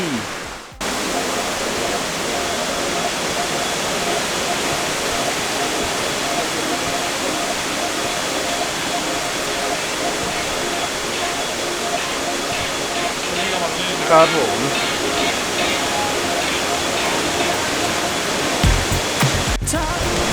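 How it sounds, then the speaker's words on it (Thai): A waterfall at a mountain resort near Chiang Mai, Thailand, pours out a steady, loud, even rush of water for the whole stretch, with someone speaking briefly near the start. "จะพาเพื่อนไปดูกันนะว่า น้ำตกของที่นี่นั้นจะเป็นยังไงบ้างนะครับ"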